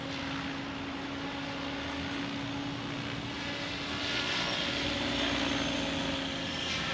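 An XL Power Nimbus 550 RC helicopter on an early break-in flight hovers with a steady, loud rotor and motor whine, droning continuously and swelling slightly toward the end.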